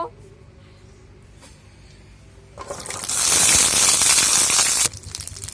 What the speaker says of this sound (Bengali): তেলটা গরম হয়ে গেছে। এবার আমি পটলগুলো দিয়ে দেব।